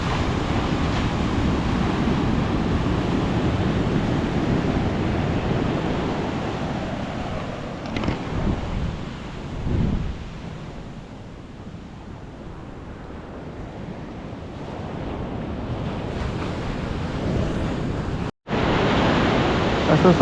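Sea waves roll onto the beach at Devgad on the Konkan coast, a loud steady wash of surf with wind buffeting the microphone, easing toward a softer hiss before surging again.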